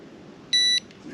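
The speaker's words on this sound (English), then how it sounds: "Little C-series alarms." A single short, loud electronic beep from a small C-series carp fishing bite alarm sounds at the side of an autumn pond, followed by a brief handling clunk.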